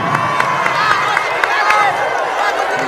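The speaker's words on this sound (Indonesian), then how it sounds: "Sekali lagi tepuk tangan dong." Indoor event crowd, apparently at a political gathering, gives continuous applause with dense clapping and scattered shouts, loud and steady throughout with a voice briefly audible.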